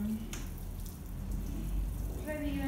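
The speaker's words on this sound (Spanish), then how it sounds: "sí es bueno echarles un poquito de agua" Water poured from a watering can or hose onto blueberry bushes in new pots, a soft steady splashing and trickle that runs throughout at moderate level.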